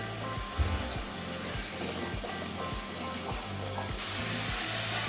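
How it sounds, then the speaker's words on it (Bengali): Spice paste fries in oil in a pan for a taro curry, a continuous soft sizzle with periodic scraping stir strokes at a steady rhythm, close by and moderately loud, growing a little brighter near the end. "এবারে মশলা থেকে তেল ছাড়া অবধি কষাবো।"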